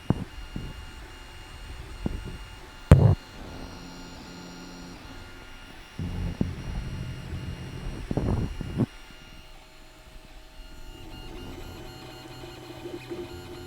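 Desktop 3D printer fitted with a TH3D EZBoard Lite 32-bit control board, running a print with a steady low mechanical hum, soft stepper whine and a few louder clunks and bursts of motor movement, close and alone.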